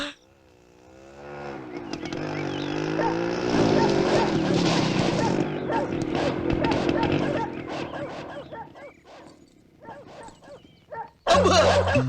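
Dogs bark and yip angrily in a comedy scene, loud and repeated, mixed with shouting voices and a vehicle engine, ending in a burst of noise.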